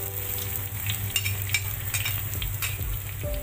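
Garlic, shallots, galangal and ginger sautéing in hot cooking oil, a lively continuous sizzle with crackling pops and occasional soft clinks of a utensil, close and alone with no voices.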